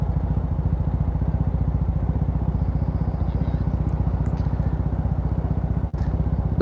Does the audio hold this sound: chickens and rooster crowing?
no